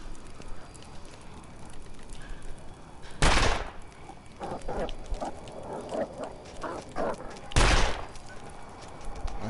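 Two loud, sharp rifle shots from The Long Dark, spaced several seconds apart, ring out over a steady outdoor wind bed with softer thumps and footsteps between them.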